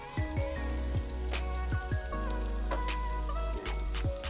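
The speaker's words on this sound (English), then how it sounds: "It's already sizzling and smells great." Steady, close sizzling of garlic frying in a hot pan, with a few soft clicks of a utensil and no talking.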